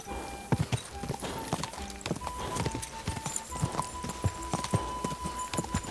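A horse's hooves clip-clop at a walk in the medieval video game Kingdom Come: Deliverance 2, an uneven series of close, crisp thuds over a soft ambient background.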